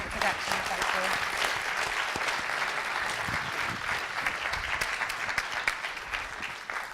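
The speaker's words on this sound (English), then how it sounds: "So can we have a huge round of applause," Sustained audience applause at a festival, a dense and even wash of many hands clapping for the full seven seconds with no talk over it.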